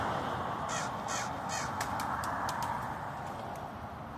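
A crow caws repeatedly, first in three drawn-out calls and then in a quicker run of short sharp caws, heard at moderate distance over steady outdoor background noise.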